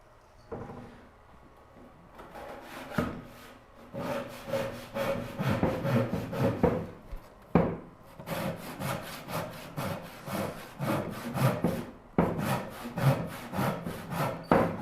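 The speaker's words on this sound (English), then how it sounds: "Sawing like a drunk on this one after all that boasting." Handsaw cutting through wood for a Moxon vise build, steady back-and-forth strokes in a quick rhythm with short pauses between bursts, close and fairly loud.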